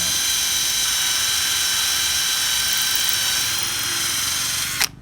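A 24V cordless drill bores into hardwood, a loud steady high-pitched whine held close for several seconds before cutting off sharply at the end.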